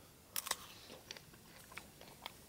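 Sharp crunchy bites into a small, crisp Trailman crab apple, two loud close snaps followed by softer, scattered chewing crunches against a quiet background.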